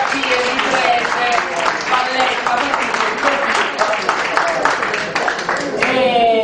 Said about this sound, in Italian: un applauso a Giovanna Marchettini